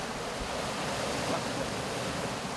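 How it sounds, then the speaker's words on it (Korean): Large ocean waves at a rocky seaweed-harvesting shore roar continuously, close and loud, with broad wind-like surf noise and no voices. "Ombaknya terlalu besar sekali ini,"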